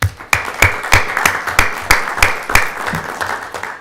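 Applause at a city council study session, a small group clapping with distinct loud rhythmic claps close by, steady across the whole stretch.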